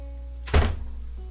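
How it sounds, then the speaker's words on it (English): A single muffled door thunk in the video game Katawa Shoujo, sharp and brief against a low electrical hum, with a short fading tail afterward. "I'm gonna close the door"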